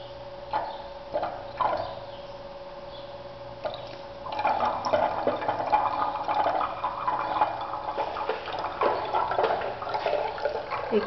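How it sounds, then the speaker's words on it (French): Water pours into a vessel for a laboratory dilution, a soft continuous trickle that grows fuller and busier after a few seconds, close and moderately quiet with no talking. "l'ajout d'eau."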